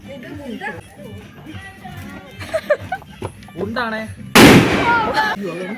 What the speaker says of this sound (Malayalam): അവിടെ നമ്മൾ ഗുണ്ട് കത്തിക്കുകയാണ്